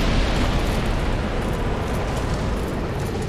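Dragon fire breath attack from Kalameet in Dark Souls Remastered, a loud, steady roaring rush of flame lasting the whole moment without a break.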